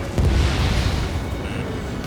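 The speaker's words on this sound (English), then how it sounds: "The enemy has a lock on me. Missile fire, evading." Enemy missile fire in the jet combat game Ace Combat 7 Skies Unknown, a loud continuous rumbling roar with a deep low-end boom that holds steady for about two seconds.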